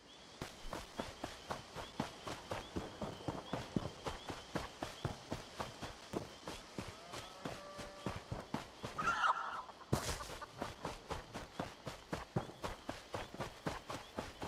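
Horse hooves clip-clop in the fantasy game The Elder Scrolls Online, a steady rapid rhythm of close, moderately loud hoofbeats with a brief rustling break near the middle.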